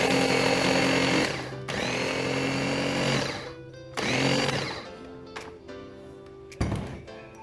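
Melted butter, 100 grams, is stirred into a Cremora tart mixture with a power mixer, which whirs loudly in several bursts of a few seconds each and stops briefly between them.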